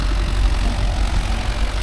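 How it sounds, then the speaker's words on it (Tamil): A New Holland tractor engine runs on the road with a steady, loud low rumble and a slight knocking chug throughout. "இங்கே ஒரு வண்டி நியூ ஹாலண்ட் ஒன்று போகுது பாருங்கள் ரோட்டில்"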